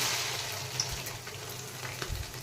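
Fish roe fritters fry in oil over a medium flame, giving a steady close hiss and sizzle with a few faint pops, no talking.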